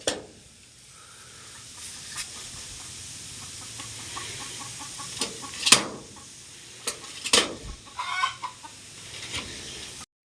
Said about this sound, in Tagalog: ito naman yung gansa dito